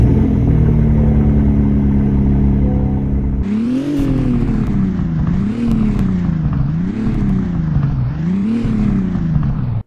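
A car in the Roblox video game revs hard, then lets off so the exhaust crackles and pops, in four rising-and-falling engine swells over a steady idle, loud and close.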